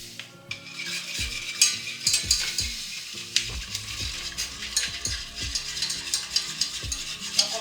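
Strawberry gelatin mixture is stirred in a pot, with repeated scraping and clinking strokes of a utensil against the pot over a soft sizzle-like hiss, close and fairly quiet, no talking.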